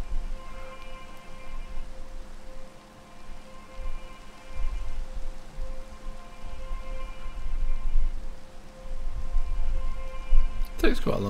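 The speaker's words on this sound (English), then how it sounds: "It decides to rain." Steady rain falls in a video game, a constant hiss of drops that continues throughout at a fairly even level, with faint game tones running underneath.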